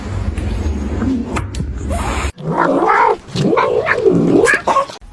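Cats fight with loud, drawn-out yowls and caterwauling that rise and fall over several seconds, with a scuffle up close at the start before the wailing takes over.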